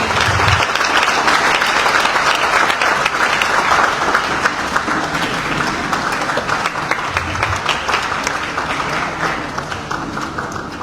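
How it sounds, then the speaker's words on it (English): At the official launch of the Executive Mansion Communication Internship, a large crowd gives a sustained, loud round of applause to welcome the Acting Minister of State, continuous and dense from start to finish. "can we give a round of applause to welcome the Acting Minister of State?"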